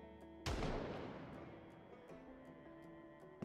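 A single heavy gunshot sound effect in the zombie survival game Project Zomboid booms out with a long rumbling decay under quiet game music, then a second sharp report starts at the very end.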